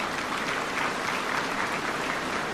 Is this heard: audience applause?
yes